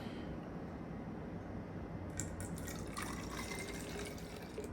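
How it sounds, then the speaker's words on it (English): Homemade rosemary water steeped with clove and mint pours steadily into a narrow spout bottle, a continuous close liquid rush and trickle with small splashy bursts partway through, no voices. "I'm going to see if I can pour that in that spout"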